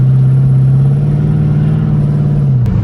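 A twin-turbo 2019 Chevrolet Camaro ZL1 with a TH400 transmission cruises steadily at about 50 mph under 2,000 rpm, a loud, constant low engine drone with a slight dip near the end.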